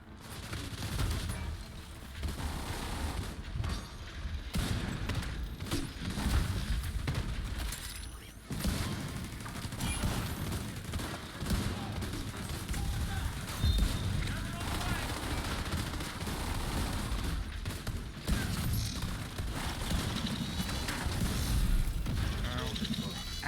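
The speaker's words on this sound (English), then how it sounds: "That's a lot of exploding all at once." Rapid gunfire and explosions crash through a video game match in dense, continuous bursts, with players talking over the din.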